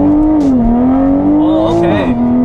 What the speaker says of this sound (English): just go from a stop and just gun it and see how it wants to drive